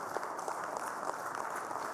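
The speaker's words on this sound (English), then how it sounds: "give a very big round of applause for sir" Steady, dense applause from a conference audience, a continuous wash of clapping with no pauses.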